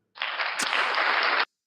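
A short burst of dense hand clapping, like a quick round of applause, starts abruptly, holds steady for just over a second and cuts off cleanly.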